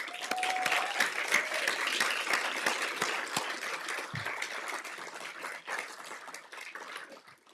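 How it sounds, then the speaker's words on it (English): Steady applause from a crowd, sustained clapping throughout that fades slightly toward the end. "Let's give them a round of applause."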